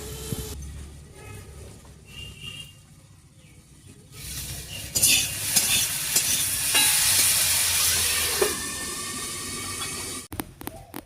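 Potatoes fry in a pan, a quiet stretch giving way to a loud, steady sizzle with scraping from stirring, close by, ending in a few clatters.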